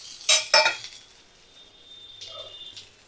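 A spoon clinks sharply twice against a pan while stirring ginger-garlic paste and cumin paste into golden fried onions, followed by softer scraping and faint ticks, close by with no talking.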